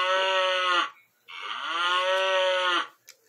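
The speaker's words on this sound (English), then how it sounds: "Cow, or says cattle." A toy piano floor mat plays a recorded cow moo, two long loud electronic lows with a short break between them, and no talking.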